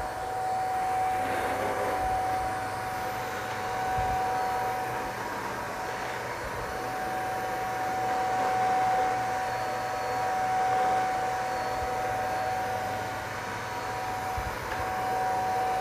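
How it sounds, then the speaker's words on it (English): A steady, continuous motor whir with a constant high tone from an LG R9 robot vacuum running nearby without pause; no voices. "I don't want the vacuum to suck that up."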